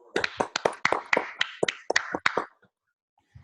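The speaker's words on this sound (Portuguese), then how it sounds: "Salva de palmas para ele, pessoal." A few people clap at a live class, about a dozen sharp, separate claps over two seconds before it falls quiet, close and fairly faint with no talk.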